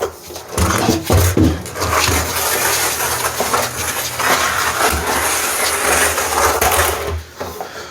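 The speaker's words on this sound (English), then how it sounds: "So I normally drop this pump in here, just like that." An aquarium water pump dropped into a fish tank for wild-caught fish, giving a steady loud mechanical hum with splashing and bubbling water throughout.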